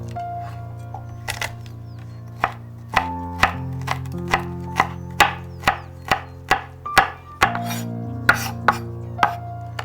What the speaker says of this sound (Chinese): 大蒜切碎